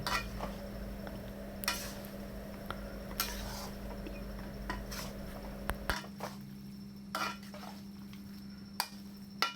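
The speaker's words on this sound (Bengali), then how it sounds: "দিয়ে এটা আমি মিক্স করে দিচ্ছি" A spatula stirs cabbage and chicken mince fry with chopped coriander in a pan, giving intermittent scrapes and clinks against the metal over a low steady hum, close and fairly quiet.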